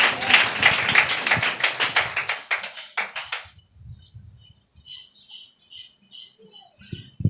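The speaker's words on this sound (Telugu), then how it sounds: "చప్పట్లు కొట్టి ప్రభువును ఘనపరచుదుము గాక" A church congregation claps in steady, fast unison for a few seconds, then the clapping breaks off into scattered faint taps and rustling in a quiet hall.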